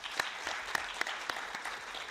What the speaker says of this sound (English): I would like to ask an hand of applause for our presenters